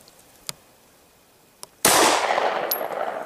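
A Glock 17 pistol wrapped in a condom fires once, a sharp loud nearby blast that follows two faint clicks and leaves a long ringing echo.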